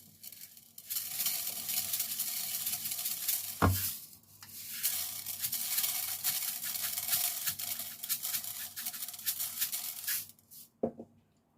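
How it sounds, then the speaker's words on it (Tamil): Fennel seeds sizzling and crackling as they dry-roast in a hot pan, a steady dry hiss with occasional scraping stirs and a couple of sharp knocks of a utensil. "கருவேப்பிலையும் இந்த பெருஞ்சீரகத்தையும் நான் வறுத்தெடுக்க போகிறேன்."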